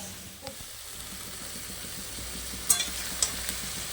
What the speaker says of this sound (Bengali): এটা কষিয়ে নেব, খুব ঝোল ঝোল করবে না, বেশ থোকা থোকা করবো।